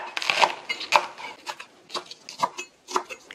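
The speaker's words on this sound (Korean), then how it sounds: "그 다음에 파를 썰어 볼게요" Green onions sliced with a knife on a cutting board, a series of sharp, bright taps at a fairly even pace of about two per second, close and fairly quiet.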